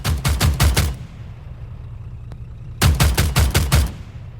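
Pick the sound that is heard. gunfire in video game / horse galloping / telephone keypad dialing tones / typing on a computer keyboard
gunfire in video game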